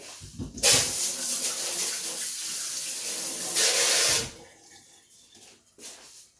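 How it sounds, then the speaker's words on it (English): Tap water runs steadily over hands in a home kitchen sink for about three seconds, a close, hissing splash that stops abruptly, followed by quieter handling and a brief second burst. "Okay, rinse my hands real quick."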